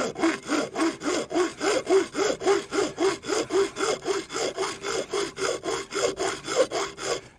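A hacksaw cuts through a tent pole with a steady back-and-forth rhythm, about two strokes per second, each stroke a raspy scrape, close and clear.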